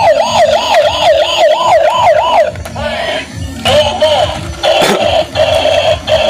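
A toy police speedboat blares a loud, close wailing siren in rapid repeating up-and-down sweeps, broken by clicks and a few shifts in pattern, with mechanical whirring underneath.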